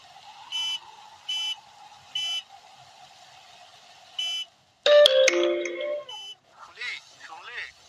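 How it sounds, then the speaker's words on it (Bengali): A car horn honks in a drama scene during a storm on a broken road: four short, evenly spaced beeps, followed by a denser stretch of sound with voices talking. "মনে হলো গাড়ির হর্ন।"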